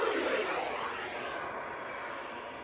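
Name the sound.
Horizon Hobby F-18 80mm RC jet high-speed pass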